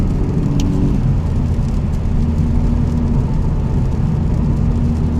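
Honda Civic Type R with resonators deleted idles and cruises with a steady, deep exhaust drone close by, a low rumbling hum with slight engine whir, no talking.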